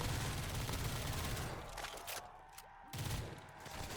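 M4 assault rifle in Call of Duty Black Ops 3 custom zombies fires rapid, dense bursts of loud gunshots, pausing briefly near the middle before another short burst resumes, with no talking.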